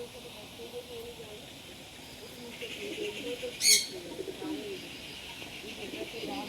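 Pigeons coo softly outdoors amid a hissy background, with a brief burst of flutter midway, as if birds take off nearby.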